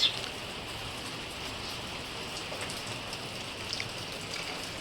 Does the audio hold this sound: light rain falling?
yes